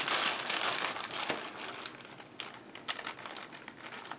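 A Ziploc plastic bag is crinkled and rustled close by while someone struggles to press its seal shut, giving dense, uneven crackling bursts that rise and fall through the whole stretch with no talking.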